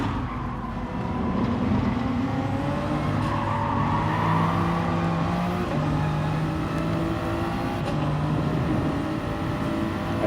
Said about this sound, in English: I hope you all don't mind the car noise in the background.